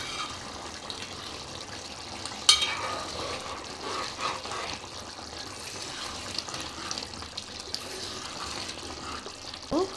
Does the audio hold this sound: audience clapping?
no